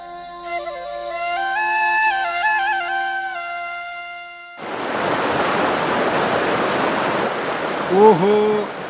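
River water rushing as a sound effect in a Nepali radio drama, a dense steady wash of flowing water that cuts in abruptly after music and stays loud and close, with a few short chirping calls near the end.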